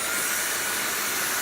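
A Dyson V7 cordless vacuum cleaner runs on carpet, a steady, close, high-pitched whooshing whine with no pauses and no talk.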